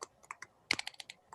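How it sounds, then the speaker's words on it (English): Someone types on a computer keyboard, a quick irregular run of soft close key clicks with one louder cluster midway, alone with no talking. "let me work on my typing here"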